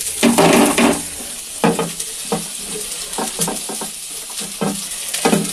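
Egg and chopped vegetables with chilli frying in a pan, a steady sizzle broken by repeated bursts of scraping and stirring, loud and close, with no talking.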